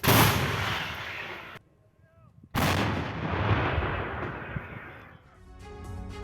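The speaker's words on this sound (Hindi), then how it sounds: "यूक्रेनी ठिकानों पर लगातार बमबारी की जा रही है।" Artillery bombardment in the war in Ukraine, around Zaporizhzhia: heavy, booming blasts with a rumbling roar, a brief quiet gap, then more loud sustained firing and echoing detonations.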